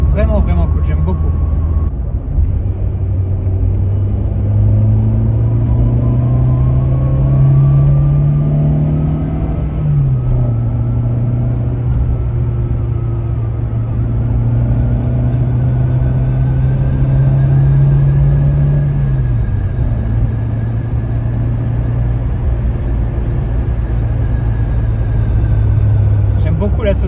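A 1995 Renault Clio RSI's slightly sporty engine drones loud and close from inside the car while driving, revs rising and dropping through gear changes over a steady road rumble.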